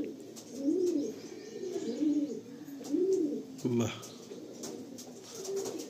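Andhra pigeons, a female and a male, coo in repeated low rounded phrases at a steady rhythm, close by, with a brief rustle partway through and no talking.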